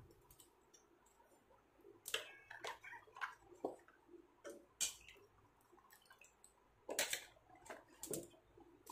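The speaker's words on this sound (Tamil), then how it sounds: "நம்ம வாங்கி வச்சிருக்க காய்கறியை அதில் போட்டுக்கலாம்." Vegetables drop one by one into a bowl of water for washing, making sparse, quiet splashes and soft knocks at irregular intervals. The sounds are close, with near silence between them.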